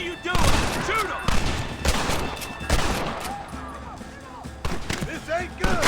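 Gunfire in the Western video game Red Dead Redemption: a loud, dense fusillade of rifle and pistol shots in irregular bursts, mixed with shouting voices and game sound throughout.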